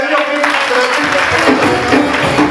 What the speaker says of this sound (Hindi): सब तालियां बजाइए